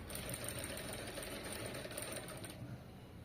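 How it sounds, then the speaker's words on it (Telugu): A sewing machine stitches the front part of a princess-cut blouse, giving a soft, steady mechanical whir with a fast even rhythm and no voices. "సూదిని కిందకి దింపి పాదాన్ని పైకి లేపుతూ ఇలా మెల్లగా రావాలి"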